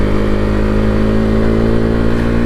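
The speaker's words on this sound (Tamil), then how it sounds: "எக்ஸாஸ்ட் நோட்டு தான். 2nd கியர் மாற்றியாச்சு. 2nd கியரில் கூட அந்தளவுக்கு தெரியலைங்க. அந்த 3rd கியரில் போட்டு ஒரு முறுக்கும் போது இருக்குது." A Bajaj NS200 motorcycle's exhaust drones loud and close at a steady high rev while riding in gear, a continuous buzzing engine note with no voices.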